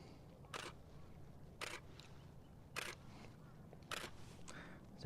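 A camera shutter fires during outdoor landscape photography, with four or five crisp clicks spaced about a second apart, close by over a faint hiss of outdoor background.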